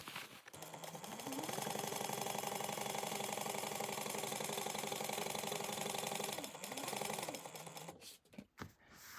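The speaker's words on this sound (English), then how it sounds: "we're going to sew this or top stitch this at 1/8 of an inch right down on each side of this seam" A sewing machine runs close and steady, topstitching one-eighth inch along each side of a seam on nylon for a backpack, easing off briefly near the end before stopping with a few soft clicks.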